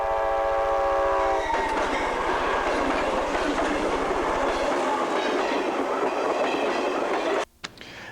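A train horn blares loudly at the start, then a passing train fills the scene with heavy rumbling and rhythmic wheel clatter that cuts off abruptly near the end.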